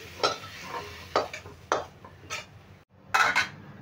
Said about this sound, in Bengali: এবার এঁচোড়টা আমি একটা পাত্রে ঢেলে নিচ্ছি